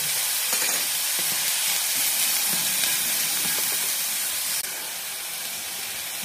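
Chopped onions sauté with a pinch of salt in a pan for an onion masala, giving a loud, continuous sizzle and hiss that holds steady throughout and eases slightly near the end.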